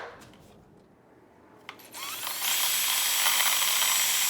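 Power drill boring a hole with a 1/4 inch drill bit through a motorcycle light bar bracket, quiet at first, then the motor spins up to a steady, loud whine close by.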